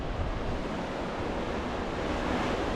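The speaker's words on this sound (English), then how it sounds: "We're getting a hard, really strong northerly wind, just straight north." Strong northerly wind blowing hard outdoors, a dense continuous roar with low rumbling buffets on the microphone, steady and loud for the whole stretch.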